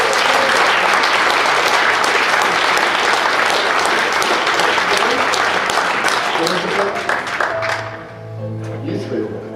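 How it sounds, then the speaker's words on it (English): An audience applauds volunteers at a hypnosis stage show, a loud sustained round of clapping from a crowd that fades toward the end as a voice begins speaking over it. "give these volunteers a big round of applause"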